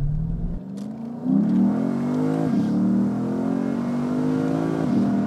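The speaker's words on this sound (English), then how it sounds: "time to see what this exhaust sounds like in the car." Lexus IS F V8 fitted with a new aftermarket exhaust, heard from inside the car as the engine revs up strongly and then holds a steady, punchy drone for several seconds, loud and alone without talk.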